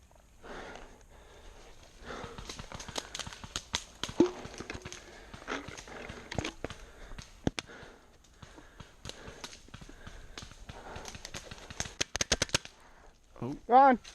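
Paintball marker firing during an outdoor woodsball game, a string of sharp pops that keeps running in rapid bursts and uneven clusters, fairly close, with brief voice sounds near the end.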